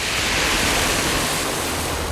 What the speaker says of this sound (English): and raw sewage pours from a drain